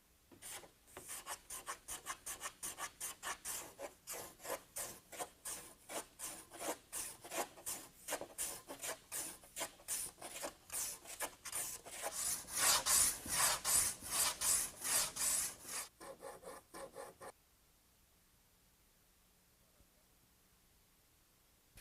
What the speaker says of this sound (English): There, we've got our bevels trimmed